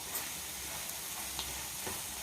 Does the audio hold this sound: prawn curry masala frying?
yes